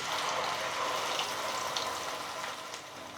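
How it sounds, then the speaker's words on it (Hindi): Water pours into a mixer grinder jar holding ground spices, a steady, hissing rush of liquid pouring continuously for a few seconds, close and fairly loud, fading slightly toward the end. "पानी हमने डाला थोड़ा मिक्सी के जार में"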